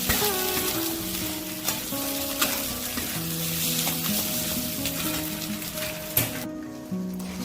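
Indian spinach (kharkol) leaf paste fries in a wok with a constant loud sizzle, while a spatula scrapes and stirs it in repeated clanking strokes throughout.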